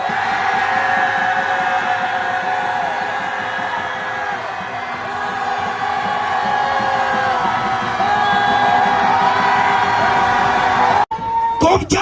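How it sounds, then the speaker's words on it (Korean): A large crowd at an outdoor political rally in Seocho shouts a sustained cheer, a dense roar of whoops and yells lasting about ten seconds before cutting off abruptly. "대통령 힘내시라고 전방에 함성 5초간"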